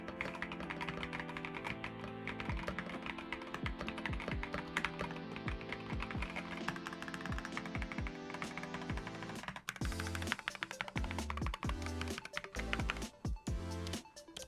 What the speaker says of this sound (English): here's a little typing test to demonstrate what this thing actually sounds like with the red flamingo switches